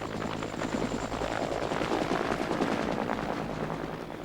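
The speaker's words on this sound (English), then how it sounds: "A close friend of the royal family takes off in an army helicopter." An army helicopter takes off with a dense, continuous rotor thrum and chop, steady and fairly loud throughout, with no voices.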